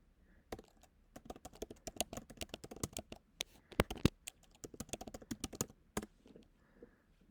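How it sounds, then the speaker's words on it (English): Rapid typing on a computer keyboard, close and crisp, with bursts of quick key clicks separated by short pauses, no talking over it. "I'm over here typing as well"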